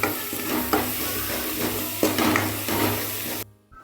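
Instant noodles with masala are stirred in a hot pan, a close continuous sizzle broken by a few scraping strokes before stopping abruptly near the end; no talking.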